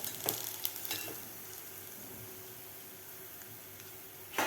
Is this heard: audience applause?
no